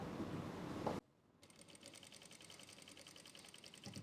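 Sewing machine stitching a suit seam, starting after a brief pause and running steadily with a fast, even mechanical rattle, close and moderately loud, with no talk.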